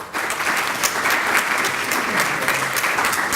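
Lecture audience at Baylor breaks into steady, sustained applause, many hands clapping densely and evenly at full volume for the whole stretch.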